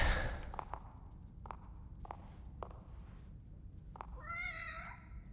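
A cat meows in the video game The Evil Within, one short clear meow near the end after a run of quiet footsteps, faint and close.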